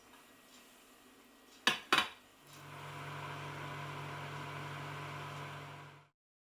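A couple of sharp clinks of a covered dish of tomato sauce being set down, then a microwave door closes and a low steady microwave hum runs until it stops.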